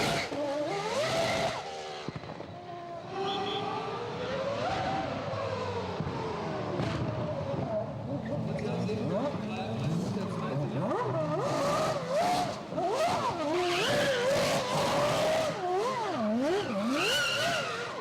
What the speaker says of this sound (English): Getting a Formula One car to move under its own power is like the launch sequence for a moonshot.